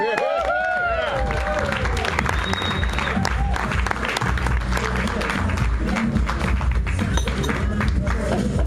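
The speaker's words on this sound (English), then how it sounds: "let's give a big round of applause for Mr. Tom Dean" Loud audience applause and cheering in a comedy club as comedian Tom Dean is welcomed for his Comedy Palace debut; steady dense clapping with crowd noise, a voice heard briefly over the start.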